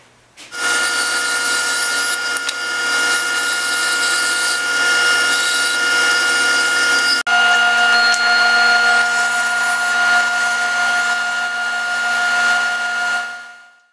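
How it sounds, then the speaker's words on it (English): Power sander whirring steadily while shaping wooden pattern pieces, a loud continuous high whine that starts abruptly, runs unbroken with a brief dip midway, then winds down at the end. "Okay, done with the sander."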